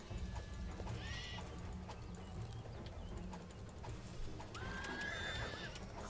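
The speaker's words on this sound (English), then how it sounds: "Why does he sound like a horse?" A creature in the Starbound video game lets out horse-like neighs and whinnies, two distinct rising cries spaced apart over a steady low game background, with no talking.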